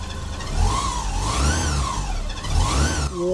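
A classic car's engine runs and revs in a few rising and falling surges, with a high, slightly whiny tone over a steady mid-range idle, close by and without speech.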